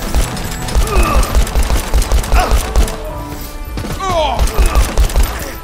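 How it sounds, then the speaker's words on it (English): Rapid, loud gunshots in a Hard Bullet game fight, bursting in quick rhythmic volleys alongside thuds and impacts, with a voice heard briefly between shots. "Oh, I shot his gun out of his hand."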